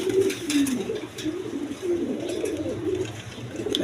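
Red-coloured pigeons at a pigeon farm give a steady, low, throaty cooing that rolls on continuously, close and moderately loud, with no one speaking.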